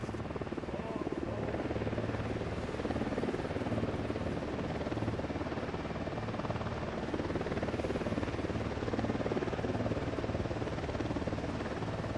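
Helicopter approaching in the video game Ghost Recon Wildlands, a continuous rotor rumble and whir holding steady and fairly loud for the whole stretch, with no speech.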